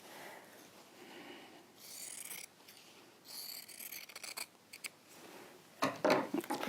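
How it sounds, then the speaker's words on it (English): Scissors cut through fabric to make a continuous bias strip, giving quiet, close, intermittent snips with short pauses between them and no voices. "So we're just going to cut all the way around, and this is going to give you your continuous bias strip."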